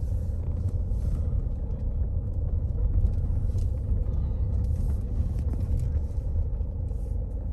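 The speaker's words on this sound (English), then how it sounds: "we will now jump in the car and head off to Dartmoor in search of Sir James Brooke's grave" A car is driving on the way to Dartmoor. A steady, low road and engine rumble is heard from inside the vehicle, continuous and fairly loud throughout with no talking.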